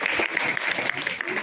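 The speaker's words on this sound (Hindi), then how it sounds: "एक बार तीनों बालिकाओं ने जोरदार ताली बजाओ" An audience at a school career fair applauds three girls after their presentation, a short, dense and steady round of clapping from a sizeable crowd with a voice faintly under it.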